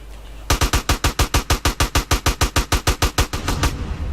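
Rapid automatic gunfire in the video game GTA San Andreas, a loud, close burst of evenly spaced shots firing in a steady rhythm for over three seconds before trailing off.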